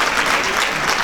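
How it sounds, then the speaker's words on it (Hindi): Audience applause at a music festival event in Indore, dense continuous clapping from a crowd, loud and close. "आपकी तालियों की आवाज के बिना आपकी उपस्थिति दर्ज नहीं हो पा रही"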